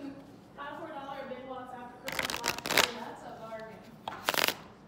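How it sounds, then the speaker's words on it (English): Playing cards are shuffled during a family Christmas gathering, heard as two quick bursts of crisp riffling flutter, each a short rapid cascade, with people talking before and between them. "I'm going to shuffle live on camera."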